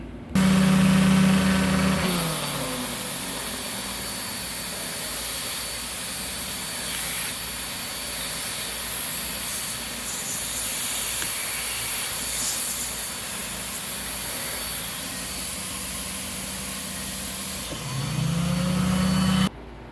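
A Kenmore Magic Blue canister vacuum with a turbine nozzle runs loudly and steadily, with a rising whine at start-up, a constant rushing airflow hiss and motor drone, and a falling whine as it shuts off near the end.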